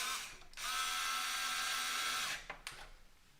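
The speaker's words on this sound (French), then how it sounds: "Maintenant, je vais revisser la carte mère." A small electric screwdriver briefly whirs as a motherboard is screwed back into a computer case, one close steady buzz lasting under two seconds, followed by faint handling clicks.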